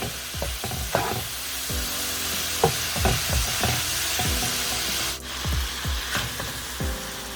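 Beef strips and potatoes sizzle in a hot pan while a utensil stirs and scrapes them, giving repeated close scraping knocks over a steady frying hiss.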